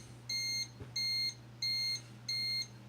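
Arduino joystick alarm clock beeping in four evenly spaced, sustained electronic tones about half a second each, moderately quiet, over a faint steady hum.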